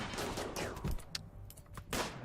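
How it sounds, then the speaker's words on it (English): Gunfire in RimWorld Alpha 15, a top-down colony game: a fast burst of several sharp shots, with more scattered pops and cracks over about two seconds, loud and close, with no talk. "they can still shoot from quite a ways back there"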